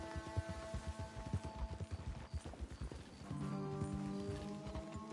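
Several horses walk along a road, their hooves clip-clopping in a quick, uneven patter close by. A horse whinnies faintly near the end, and no one speaks.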